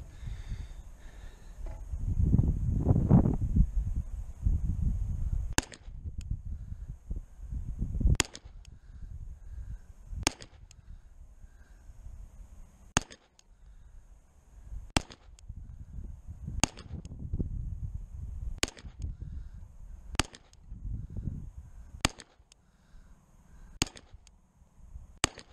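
A CZ Shadow 2 pistol in USPSA Production trim fires about nine sharp, loud shots at a 25-yard target, spaced roughly one to two seconds apart, each a crisp crack over low background rumble and handling noise.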